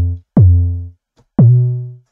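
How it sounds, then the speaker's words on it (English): A bass synth patch built in Serum, with saturation, a pitch envelope and portamento, plays two deep notes, each with a sharp pitch-dropping attack and a slowly fading tail, clean and alone. "We were creating the bass sound."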